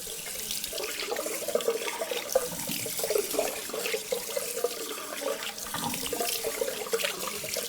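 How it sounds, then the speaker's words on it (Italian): Cold water runs from a tap as a face is rinsed after shaving, a steady splashing flow with irregular spatters and gurgles, close and continuous. "e sciacquo con l'acqua fredda"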